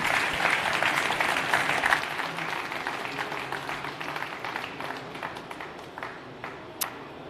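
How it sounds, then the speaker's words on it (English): A keynote audience at a technology conference breaks into a round of applause, dense clapping that starts loud and gradually thins and fades over several seconds. "let's give a huge round of applause"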